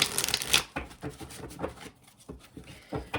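Tarot cards being shuffled up close: a loud riffle burst followed by a series of softer, irregular slaps and flicks.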